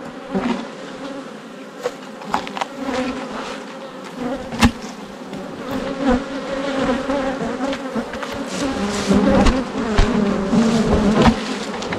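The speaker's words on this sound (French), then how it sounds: "fait tomber les abeilles." A dense swarm of honey bees buzzes continuously at close range as a hive box is knocked on the ground, the drone swelling and thinning, with a few sharp knocks and bumps mixed in.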